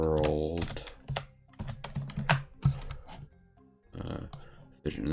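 Keys clatter on a computer keyboard in irregular bursts, close and distinct, with a voice speaking over parts of the typing.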